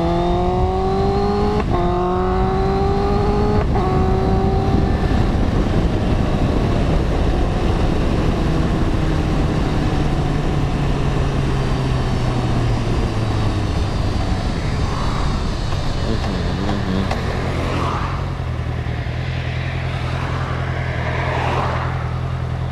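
A big bike motorcycle with a quick shifter, ridden to work through traffic: a loud, close engine drone rises in pitch through several gear shifts, then settles into a steady roar, with no talking.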